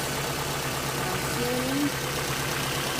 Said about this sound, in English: now we'll let her idle a little bit and check for leaks